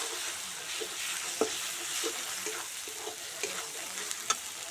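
Ginger paste and chili powder frying in oil with a steady, moderate sizzle, while a spoon stirs the mixture and gives occasional soft scrapes and clicks against the pan. The cooking is for a jackfruit and prawn curry.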